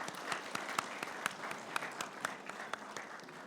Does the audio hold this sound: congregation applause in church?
yes